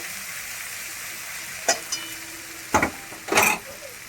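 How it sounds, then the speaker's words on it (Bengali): Garlic frying in a pan as it is stirred: a steady low sizzle with a few short scraping strokes of a spatula against the pan, close and fairly quiet, no talking. "রসুন দিয়ে আমি একটু নেড়ে নিচ্ছি, একটু লাল লাল হবে"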